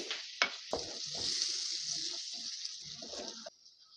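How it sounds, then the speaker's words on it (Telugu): Tomato pieces fry and sizzle in a pan with ginger garlic paste and turmeric, a steady close hiss broken by a couple of sharp spoon-stirring clacks, with no one talking. "ఒక మీడియం సైజు టమాటా ముక్కలు కూడా వేసి 2 నిమిషాల దాకా మగ్గించుకొని"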